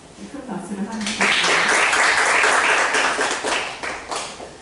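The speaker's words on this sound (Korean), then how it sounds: "큰 박수를 하면서" An audience at a lecture forum on peace and unification breaks into applause, a burst of clapping that swells after a speaking voice and continues under talk before fading slightly.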